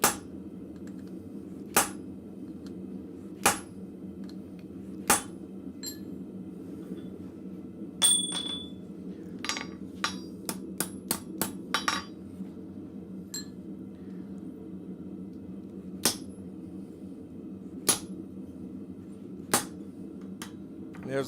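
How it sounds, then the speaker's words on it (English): Hammer blows drive a steel hole punch through hot metal at a blacksmith's forge: sharp, ringing metallic strikes land singly every couple of seconds, with a quick cluster of lighter taps in the middle, over a steady low background rumble. "I'm going to punch right in the middle of that divot"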